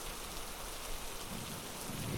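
Heavy rain falls as a steady wash of drops, a sound effect for an animated children's story, and a low rumble swells toward the end, fairly quiet throughout.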